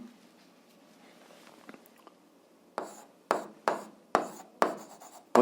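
Handwriting on paper, starting as faint scratching and then turning into a series of sharp, evenly spaced strokes that sound close and fairly quiet.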